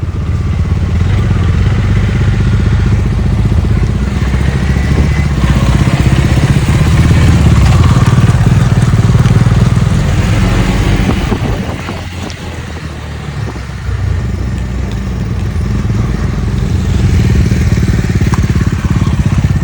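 A motorcycle ridden by a first-time rider runs loud and close for the whole stretch, its engine droning steadily with clattering mechanical noise and a brief easing of revs midway.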